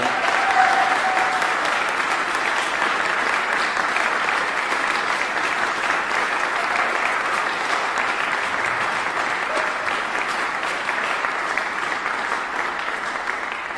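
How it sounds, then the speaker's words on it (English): A news conference audience applauds the announcement of a new Chattanooga marathon, steady sustained clapping for the whole stretch, even and fairly loud, slowly tapering near the end. "It said wait for applause."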